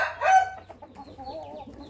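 A young Burmese fighting rooster gives a short rough crow and soft clucks, moderately close, with faint background noise and no voices.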